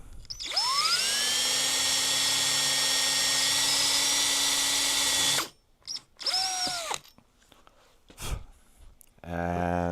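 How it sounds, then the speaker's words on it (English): An electric drill bores holes in an arcade fightstick case: a loud, sustained high whine spinning up and running for about five seconds, then a shorter burst after a pause, with clicks and handling noise between. "let me drill these holes"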